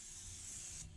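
Light primer coat being spray painted onto a VW Polo GTI body panel, a steady close hiss that holds evenly for about a second and then cuts off abruptly near the end.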